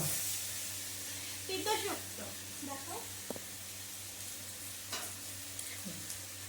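Food frying and being stirred in a pan, a steady soft sizzle with occasional scrapes and clinks, while people talk intermittently over it.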